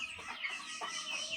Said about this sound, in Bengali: দেখতেই পাচ্ছেন সবগুলো মুরগি আমার সুস্থ আছে